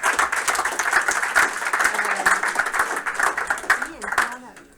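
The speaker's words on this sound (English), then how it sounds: "Round of applause." Audience applause at a game studio build review, with dense sustained clapping throughout and voices talking over it near the end.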